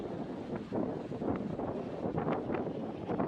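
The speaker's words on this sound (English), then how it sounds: "Probably can't hear any of this because of the wind, eh?" Gusty wind buffets the microphone beside seaside tide pools in Montevideo, a close, rumbling roar with uneven puffs throughout and no talking.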